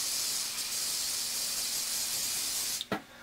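A continuous loud hiss of an aerosol spray paint can held close to an N-scale model tree, ending abruptly with a brief clunk.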